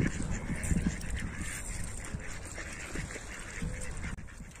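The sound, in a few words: ducks quacking by the river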